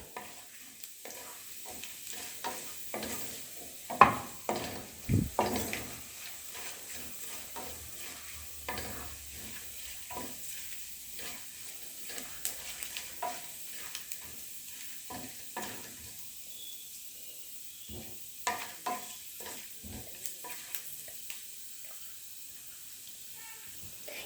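Sliced onions sizzle in hot oil for a homestyle egg curry, a soft steady frying hiss with scattered stirring clicks and scrapes throughout, fairly quiet and with no voices.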